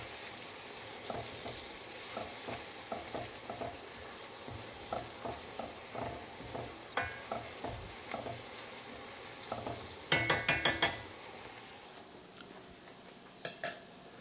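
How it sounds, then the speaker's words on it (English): Steak Carole sauce made with Bordeaux wine being stirred in a pan, with a steady soft sizzle under repeated scraping and clinking strokes of a utensil, a quick burst of sharper metallic clinks near the end. "All right, I'm going to stir this up again."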